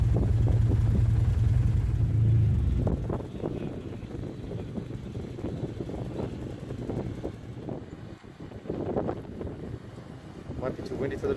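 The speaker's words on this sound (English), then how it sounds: "Might be too windy for the drone up here." Strong wind buffeting the microphone on an exposed hilltop during a Newfoundland ATV crossing, a heavy low roar at first that eases into gusty rumbling, with someone talking over it.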